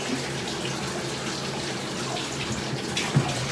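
Water running into a bathtub for a toddler's bath, a continuous close splashing gush with a faint knock near the end.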